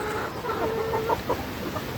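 Sonali hens on a small farm clucking in short, repeated bursts against steady background noise, fairly close but modest in level, with no talking.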